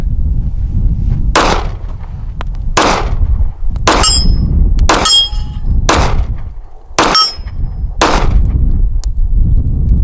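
Sharp, loud pistol shots from a .45 ACP 1911, a Sig Sauer, Smith and Wesson SC E Series or Springfield, fired outdoors: seven or eight reports spaced roughly a second apart, some with metallic clinks of ejected brass.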